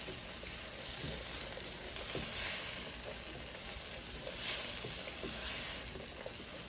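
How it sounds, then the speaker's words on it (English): Spices sizzling and frying steadily in a hot pan for masala dosa potato filling, a continuous close crackle with occasional soft stirring scrapes and no talk. "So now I'll just quickly saute it."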